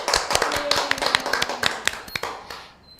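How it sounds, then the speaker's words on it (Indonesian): A television studio audience claps for a child guest on a children's show, a short burst of brisk, scattered hand claps that fades out over a few seconds. "Kita beri tepuk tangan yang meriah."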